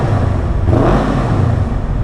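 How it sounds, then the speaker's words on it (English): A car engine is revved gently at close range, giving a steady low rumble with a mild swell in the middle of the brief burst. "And we'll give a low rev."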